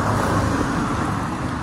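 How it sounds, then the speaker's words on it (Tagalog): Motorcycles and tricycles rumble along a busy market street, a steady, loud wash of close engine and traffic noise with no break and no talking. "Ang ingay ng mga motor. Tricycle, motor, ingay kaayo."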